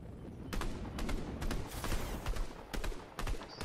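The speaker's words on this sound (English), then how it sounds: "we're shooting back at the players" Rapid bursts of gunfire in the Fortnite video game, clusters of sharp cracking shots fired in quick succession with short gaps, moderately loud and mixed with a busy game background.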